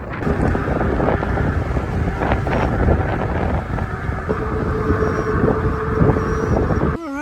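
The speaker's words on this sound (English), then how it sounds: "it's windy." Strong wind roars and buffets the microphone continuously, a loud rushing noise with gusty swells and no pauses.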